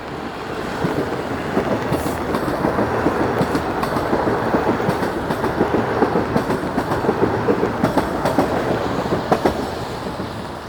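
A Toronto TTC subway train passes close by on a rainy November day, its wheels giving a steady, loud clickety-clack rumble over the rails throughout.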